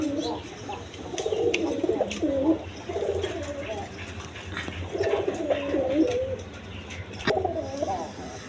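Pigeons at a breeding farm coo in repeated rolling phrases close by, over a steady low background hum.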